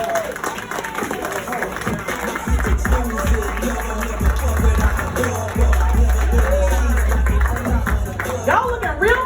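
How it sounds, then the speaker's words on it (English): A comedy theater audience claps and cheers for a stand-up comedian. The applause is loud and sustained for several seconds, with crowd noise and amplified voices overlapping. "So let's give a round of applause for Dominique Chestand."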